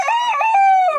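A voice imitates a rooster crowing in one short, loud, close call. It has a rising and sustained tone, much like a morning cock-a-doodle-doo.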